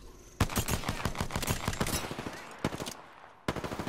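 Rapid automatic gunfire from a gun in a shooter video game, a dense string of sharp close shots that breaks off briefly and then resumes near the end.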